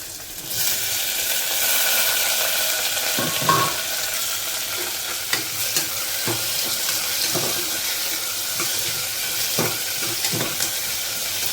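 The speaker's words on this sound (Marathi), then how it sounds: "एक कांदा घेतला होता आणि एक टमाटर थोडं परतून घ्यायचं आहे." Onion and tomato sauté in a pan for masoor dal curry, with a continuous sizzling hiss and occasional stirring clinks, no talking.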